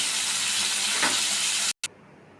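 Spiced pomfret fish fries in hot oil in a pan, a loud, steady close sizzle with a brief stir, then cutting off abruptly before a short final burst.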